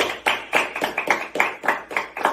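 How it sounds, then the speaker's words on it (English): A small group of podcast hosts and guests claps in a studio, a short burst of roughly a dozen close, sharp, rhythmic claps over a couple of seconds. "Can we clap that up for you?"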